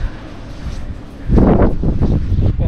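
Wind buffets the microphone in strong, roaring gusts on Mullayanagiri Peak near Chikmagalur, rising sharply halfway through and staying loud and blustery.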